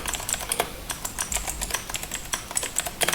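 Rapid, fairly close typing on a computer keyboard, a steady run of light key clicks with no talk, entering text in Adobe Illustrator.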